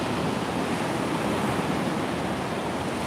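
Surf washes steadily onto a Florida beach at Tables Beach, a loud, continuous broadband roar of breaking waves mixed with wind rumble, with no voices.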